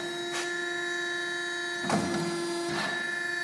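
A Steelmaster SM-BMT76CNC1 CNC mandrel tube bender with 76mm capacity, Mitsubishi servo drive and controller, hums steadily while bending tube, with a few brief mechanical clunks and hisses over the machine tone.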